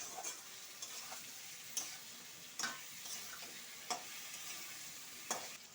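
Ginger-garlic paste sautéing for a Bengali-style sol (snakehead) fish curry, a soft, steady sizzle broken by about half a dozen sharp scrapes of a spoon against the pan, fairly faint, with no voices.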